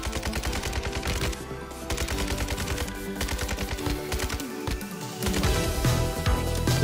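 Rapid automatic gunfire rattles through a firefight in the Call of Duty Warzone 2 video game, loud and near, with dense bursts of shots over continuous background action.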